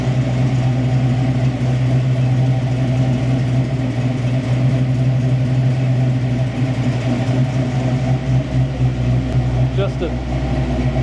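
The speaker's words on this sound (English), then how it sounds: "a sound like no other. That is the 5-liter" Ford Mustang Fox Body with a 5.0-liter V8 idling with an idle fault, a loud, steady low rumble close by with a slightly lumpy beat, under someone talking.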